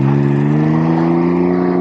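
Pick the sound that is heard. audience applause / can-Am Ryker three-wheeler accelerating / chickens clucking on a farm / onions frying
can-Am Ryker three-wheeler accelerating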